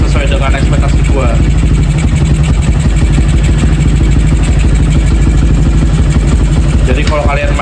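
A motorcycle engine runs after carburetor tuning in a garage, a loud, close, steady clattering drone throughout with a voice faintly audible over it.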